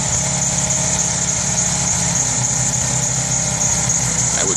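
A snowblower engine runs steadily during a heavy blizzard, a continuous buzzing drone heard at moderate distance with no pauses.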